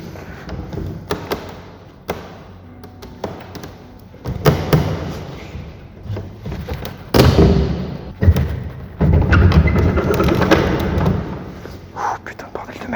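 Heavy stuck door on a tall antenna mast being forced open, with repeated loud thuds, scrapes and bangs in irregular bursts, interspersed with movement noise and some speech.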